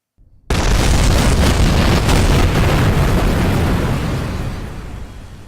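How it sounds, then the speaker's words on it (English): A spacecraft crashing and breaking apart in Kerbal Space Program, bursting in suddenly as a loud, dense roaring explosion that sustains for several seconds before slowly fading. "And Jeb's craft, unfortunately, just gets destroyed"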